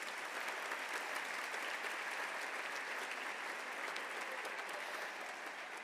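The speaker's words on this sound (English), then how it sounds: "Let's give them all a round of applause." Audience applause at a public leadership awards ceremony, a steady, even wash of many hands clapping that holds at a moderate level throughout without talk.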